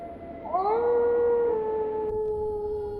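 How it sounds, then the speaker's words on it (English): Wolves howl in a game setting among ancient stones: several long rising-then-level howls overlap from about half a second on, loud and sustained over a steady ambient rumble, with no talk. "listen to the howling wolves"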